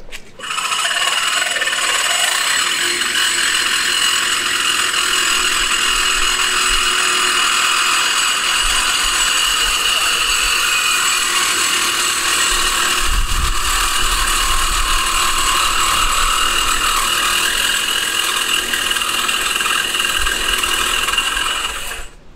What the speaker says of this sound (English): So I'm using the Carbide-Tipped and Diablo for thick metal.